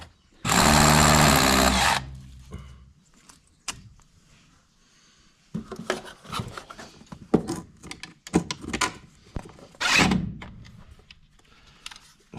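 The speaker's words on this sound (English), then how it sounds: "that means I have to drill a hole" A power drill whines loudly in one short burst drilling a hole in a wall while wiring a mains electric fence energiser, then quieter clattering, scraping and tapping follow as it is handled.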